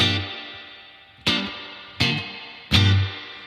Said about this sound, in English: one of my favorite things about this pedal, the spring reverb. I'm just gonna crank it all the way